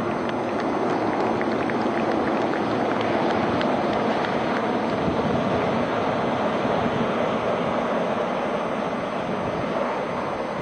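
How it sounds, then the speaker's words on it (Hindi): Loud, continuous roar of Indian Navy Sea King helicopters passing overhead in formation at a Navy Day 2023 celebration, a steady heavy rush with no clear break and no talking. "Flying Frigate Sea King 42 Bravo."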